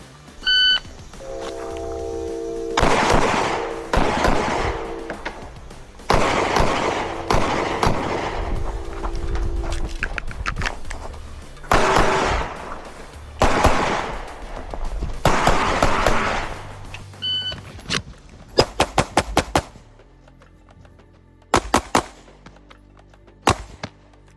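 Pistol shots at an IDPA match ring out in quick bursts, followed by scattered single pops from other shooters, all loud and sharp with electronic timer beeps in between.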